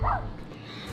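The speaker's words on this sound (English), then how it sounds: "Shut up, dog!" A dog barks and yips in a short, close burst at the start, then fades under a low background hum, with indoor room sound.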